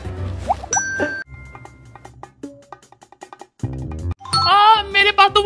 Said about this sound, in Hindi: घंटे तो सेम ही साउंड कर रही है